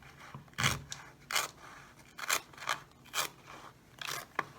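Scissors snip through a plastic soda bottle being shaped into a face shield, about seven crisp close cuts with short crunchy scrapes, in an irregular rhythm.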